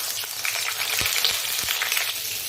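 Pointed gourd (potol) fries in hot oil in a wok, a dense steady sizzle with faint crackles and a few soft stirring knocks, close and continuous with no talk.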